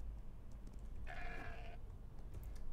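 A sheep in the video game ARK lets out one drawn-out bleat of under a second, over a faint background hiss and light clicking.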